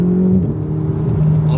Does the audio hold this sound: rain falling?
no